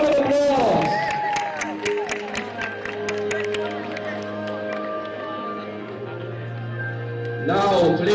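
An audience at a cosplay chess event claps and cheers, with bursts of applause at the start and end around a stretch of amplified announcing and music.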